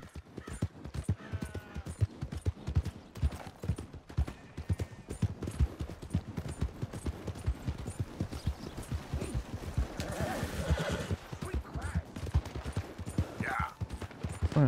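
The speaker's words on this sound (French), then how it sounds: "Encore des coups de feu là-bas, qu'est-ce qui se passe?" Distant gunfire in the video game Red Dead Redemption 2 comes as scattered shots and bursts behind a steady, close clip-clop of horse hooves.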